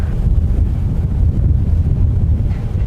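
Strong wind gusts buffet the microphone in the hills between Fairfield and Vacaville in Solano County, California, a loud, low, rumbling roar that swells and churns continuously with no voices.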